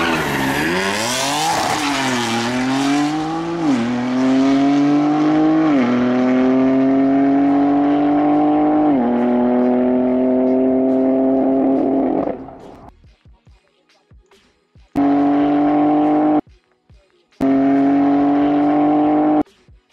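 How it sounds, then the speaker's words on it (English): A distant BMW M3, M4 or M2 Competition with an S55 engine accelerates through several gear shifts, its rising drone stepping up and down for about twelve seconds, followed by two short bursts of the same engine tone. "let's just go find a far sound of an M3, M4, or M2 comp"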